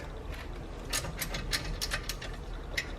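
A ratchet clicking in short bursts as brake caliper bolts are tightened on a 2009-2016 Volkswagen Tiguan front brake, close and fairly quiet over low background hum.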